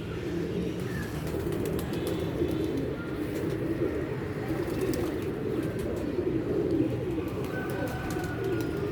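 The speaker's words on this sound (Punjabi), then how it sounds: "ਇਹ ਸਭ ਤੋਂ ਚੰਗੀ ਕਬੂਤਰੀ ਸੀ ਜੀ।" Pigeons coo steadily outdoors, a soft, continuous murmur of low calls lasting several seconds with no talking over it.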